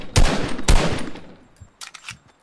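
Gunfire in the video game Fortnite: two loud, sharp shots close together, then a trailing decay and a few fainter pops.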